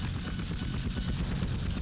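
Steady rotor chop of a helicopter in GTA San Andreas, loud and continuous with a rapid pulsing throb and no voices.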